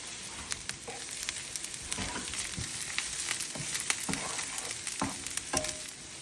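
Onion and ginger frying in oil in a pan for a ginger beef stir fry with asparagus, a close, busy sizzle broken by repeated spatula scrapes and knocks at an irregular rhythm.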